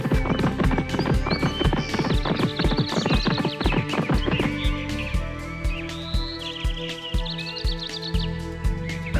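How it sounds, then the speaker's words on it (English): Rapid, rhythmic clip-clop of hooves from a galloping horse, loud and close, with a horse whinnying over the pounding beat. "The horse started running even faster."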